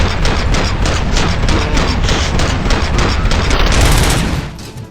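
Rapid sustained gunfire from robots in RoboCop: Rogue City, a dense loud barrage of overlapping automatic shots rattling continuously before tapering off at the end.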